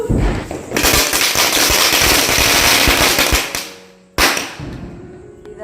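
Diwali firecrackers outside a new house, bursting in a dense, loud crackling barrage for several seconds, then fading, with a final sharp bang and a brief tail of crackle.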